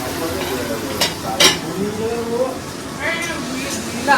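Potatoes frying in a pan give a soft, continuous sizzle with a couple of brief stirring scrapes, beneath people chatting at a Holi family gathering.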